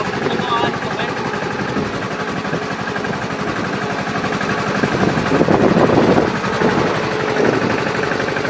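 A tractor engine runs in a farm field, a steady, loud mechanical drone with a rough throbbing pulse that swells slightly toward the end, while a voice talks over it.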